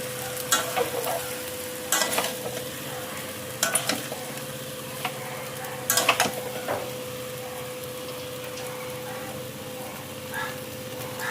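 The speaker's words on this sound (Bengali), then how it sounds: "এখানে চিংড়ি মালাইকারি চিংড়িগুলোকে ভেজে নিচ্ছি।" Shrimp fry in a pan for chingri malaikari, a steady close sizzle with intermittent scraping stirs and clatter, over a faint constant hum.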